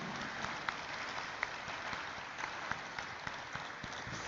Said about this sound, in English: Let's kick off this morning before I say anything with a thunderous round of applause